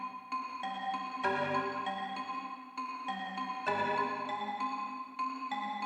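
Akai S612 sampled marimba played alone in short, bright repeated notes and chords, a steady rhythmic pattern at moderate volume with no voices.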